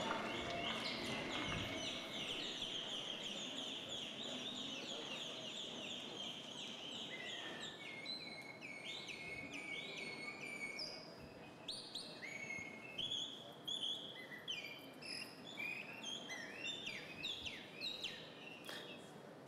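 People mimic bird calls as part of a centuries-old hunting tradition, their varied chirps, whistles and gobbling turkey-like calls overlapping densely throughout, fairly faint against a low background hum.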